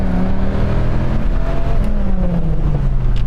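A Dodge Viper accelerating hard, its loud close engine note climbing in pitch, then dropping sharply at a gear change before rising again, no voices over it.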